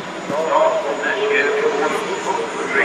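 A Qatar Airways Boeing 787 jetliner passes during an air show flying display, a soft, even jet roar heard at a distance that holds steady throughout while someone talks over it.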